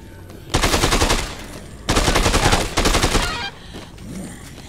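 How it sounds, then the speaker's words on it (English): Rapid automatic gunfire in the zombie video game Dead Rising 2: Off the Record, loud sustained bursts with short pauses between them. "You can stop shooting me now, people."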